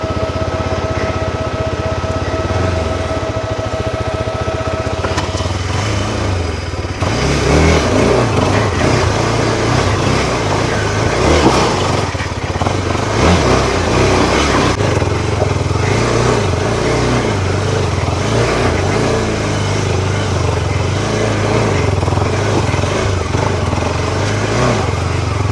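Motorcycle ridden through mud on a Nepal trail near Ghandruk, a loud, steady engine drone with uneven revving surges and wheel churn for the full stretch.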